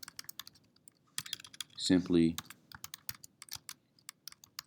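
Keys on a computer keyboard clack in quick, irregular bursts of typing, someone briefly speaking partway through.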